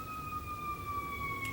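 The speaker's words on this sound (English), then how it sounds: "Oh, I don't miss these ambulances" An ambulance siren passing in the street holds a steady, slowly falling wail over a constant traffic rumble, sounding moderately distant.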